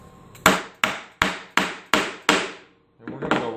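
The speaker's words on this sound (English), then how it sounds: "as I start to go down on this right here, I'm going to actually angle the chisel back just a little bit" A chisel struck with a mallet chops into wood for cabinet joinery: six sharp, evenly spaced blows ring out close up, each with a short woody decay, then a pause and a softer scraping and tapping.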